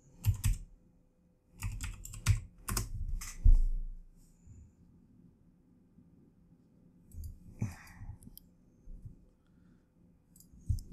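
Clicking keystrokes on a computer keyboard come in a quick flurry of sharp taps over the first few seconds, then fall quiet, with a few softer clicks later; close and fairly faint.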